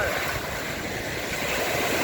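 Strong wind and surf roll onto a beach at Bang Saray, a steady broadband roar with gusting wind buffeting the microphone throughout, loud and continuous with no voices.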